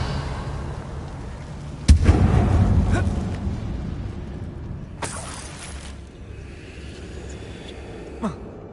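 Confringo blasting spell explosions in the Hogwarts Legacy video game, inside an abandoned mine: a sharp blast with rumbling debris, then a second bright burst and a smaller crack, no talk.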